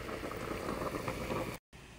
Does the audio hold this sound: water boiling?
yes